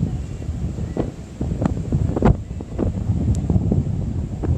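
Strong gusts of wind at a bay buffet the microphone in repeated rumbling bursts and thumps, loud and close, swelling and easing over a constant roar.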